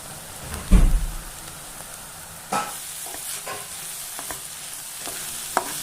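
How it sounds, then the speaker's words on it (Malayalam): Kallummakkaya mussel kalmas, Kannur style, is sautéed with salt in a pan. A spoon stirs with a few scraping knocks over a soft, continuous sizzle. "ഇതുപോലെ നമുക്ക് നന്നായി വഴറ്റിയെടുക്കാം"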